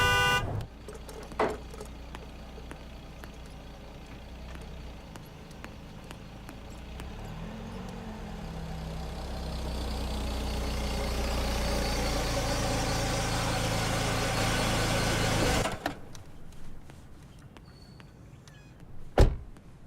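A car pulls up outside, its engine rumbling and building steadily over several seconds before cutting off abruptly, followed by a faint thump near the end.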